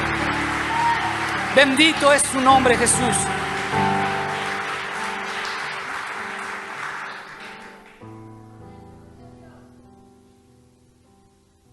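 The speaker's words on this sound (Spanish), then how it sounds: "Dele un aplauso fuerte al Rey de Reyes." A church congregation applauds loudly with dense, crackling claps that swell early, then fade out as a preacher's voice continues over sustained music and tones.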